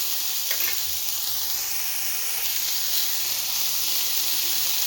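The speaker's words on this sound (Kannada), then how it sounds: "ಇದಕ್ಕೂ ಸ್ವಲ್ಪ ಉಪ್ಪು ಹಾಕ್ಬಿಟ್ಟು ನೀಟಾಗಿ ಫ್ರೈ ಮಾಡ್ಕೊಳ್ಳೋಣ" Chopped onion and tomato frying with salt in a pan make a soft, continuous hiss and sizzle that stays even throughout, with no voices.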